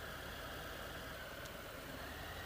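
A 2018 Harley-Davidson Fat Bob motorcycle engine idles with a steady, even rumble, heard faintly and alone without any talk.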